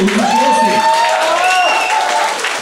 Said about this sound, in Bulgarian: Други аплодисменти, отлични гости